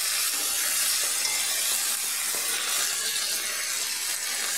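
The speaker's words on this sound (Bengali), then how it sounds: "দিয়ে মেথি শুকনো লঙ্কা আদা বাটার ফোড়নটা ভালো করে ভেজে নিচ্ছি।" Continuous loud sizzling hiss of fenugreek seeds, dried chilli and ginger paste frying in hot mustard oil, steady throughout with no speech.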